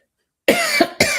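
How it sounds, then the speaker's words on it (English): A close, sharp cough, a brief gap, then a second cough, with silence before the first. "I'm so sorry, I'm going to have to cough."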